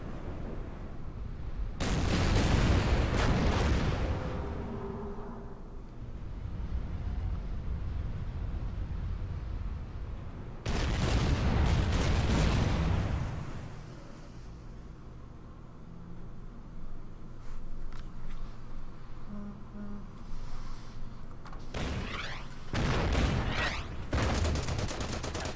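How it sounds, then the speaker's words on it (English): Artillery fire in the wargame Order of Battle: Pacific, with heavy booming salvos in several loud bursts separated by quieter rumbling stretches, and no talking. "Yeah, he's got artillery."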